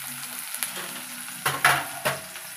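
Chopped onions sizzle in a hot pan for semiya upma, a soft steady frying hiss broken by a few louder scraping stirs near the end, with no talk.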